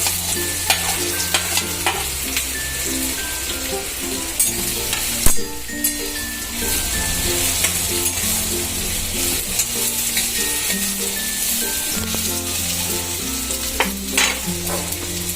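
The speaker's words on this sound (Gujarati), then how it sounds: "પછી આપણે નાખશું જીરું, પછી આપણે નાખશું હિંગ, પછી આપણે નાખશું કેરીના કટકા." Mango pieces sizzle in a cumin and asafoetida tempering for a mango vagariyu, with a continuous bright frying hiss and steady stirring clatter throughout.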